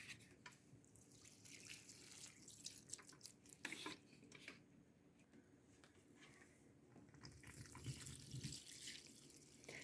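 Tap water streams and splashes steadily while indoor house plants are watered, a faint, continuous running-water wash with small drips and a few soft knocks, heard close with no talking.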